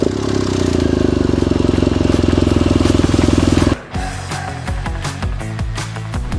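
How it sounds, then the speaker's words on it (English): An adventure motorcycle engine runs loud and close at a fast, steady chugging beat for several seconds, then drops abruptly and settles into a lower, uneven idle. "front brake on, and just fire the engine away"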